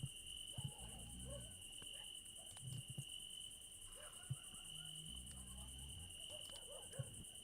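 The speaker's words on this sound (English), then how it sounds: "All I hear is barking and crickets." Steady high insect chirping, like crickets, runs continuously beneath low voices and occasional thumps, with faint distant barking-like calls in a quiet night setting.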